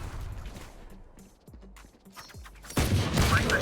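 Gunfire in the Valorant video game, a rapid fusillade of shots with booming low end, running steadily at first, thinning to a few separate cracks in the middle, then swelling into a loud dense burst at the end.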